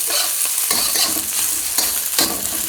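Pork pieces browning in a hot wok sizzle and crackle loudly and steadily while being stirred, with repeated scraping pushes of a spatula through the frying.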